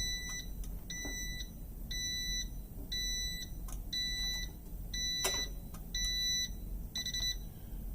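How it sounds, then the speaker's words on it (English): A sublimation-printing heat press sounds its ready signal: a repeating series of high, evenly spaced electronic beeps, moderately loud over a low room hum, with a few faint clicks between them. "Let's sound a beep. That means it's ready"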